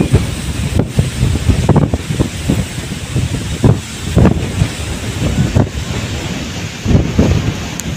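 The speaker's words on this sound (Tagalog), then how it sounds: "Grabe ang hangin." Strong wind buffets the microphone in heavy low rumbling gusts, with surging bursts over a continuous roar, outdoors at a campsite above a sea of clouds.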